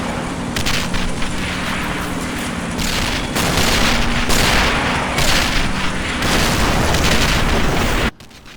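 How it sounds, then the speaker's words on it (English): A massive Katyusha rocket barrage in the Men of War strategy game, a loud sustained roar of overlapping explosions and booms that swells and then cuts off abruptly near the end. "Massive Katusha barrage."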